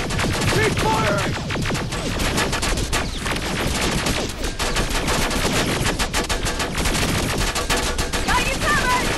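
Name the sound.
gunfire in the video game Terminator Resistance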